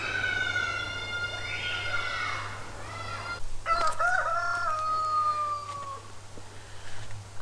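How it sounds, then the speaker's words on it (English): Roosters crow one after another near a home, long rising calls with several birds overlapping, over a steady low hum and background noise. "Now the roosters are going off their nuts."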